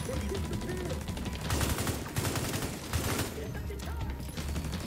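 Automated turret fire in The Division 2, rapid bursts of gunfire rattling at moderate level amid other game noise, with a voice talking over it.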